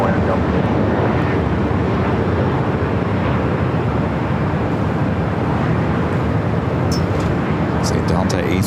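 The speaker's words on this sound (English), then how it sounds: "See Delta A350 on the move over here." A Delta A350 airliner moving on the ground at LAX, a steady, loud, wind-buffeted jet roar held throughout with no break.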